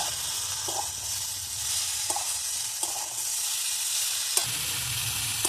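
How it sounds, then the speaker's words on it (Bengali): Dried cauliflower sautés in a hot pan with sugar, a steady loud sizzle broken every second or so by the scrape of a stirring spatula. "আর এর মধ্যে আমি কপিটা ঢেলে দেবো। ভালো করে আমি কষে নেব কপিটা।"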